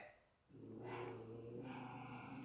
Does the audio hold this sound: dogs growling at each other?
yes